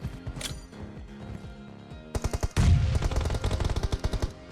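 Gunfire rattles in PUBG Mobile. Distant scattered shots are followed by loud, rapid automatic bursts of rhythmic cracks close by that continue to the end.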